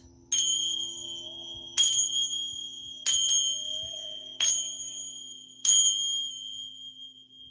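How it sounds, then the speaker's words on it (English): Temple bells ring out five times at a slow, even pace, each bright metallic strike ringing on and fading before the next, close and clear over a quiet room hum. "I've got my temple bells that I'm gonna use to just clear the area."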